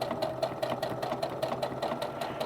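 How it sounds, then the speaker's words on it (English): A sewing machine runs a continuous stitch through fat-quarter fabric near elastic, its fast even needle clatter close and steady throughout with a low motor hum underneath. "And just continue sewing that 1/8 of an inch stitch,"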